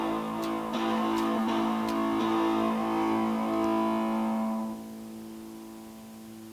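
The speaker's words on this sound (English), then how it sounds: "if you add a little more distortion" A synthesized tone in a Web Audio demo runs through a distortion curve, producing a buzzy, harmonic-rich sustained drone with a few sharp clicks, then dropping to a quieter, thinner level near the end, with no speech.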